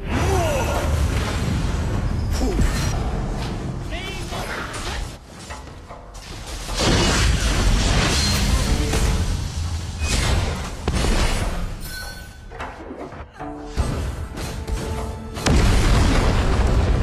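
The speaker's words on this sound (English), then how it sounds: "Tower has been destroyed." Booming explosions and crashing impacts of a tower being destroyed in the Arena of Valor (ROV) mobile game, loud and dense, layered with whooshes and game effects throughout.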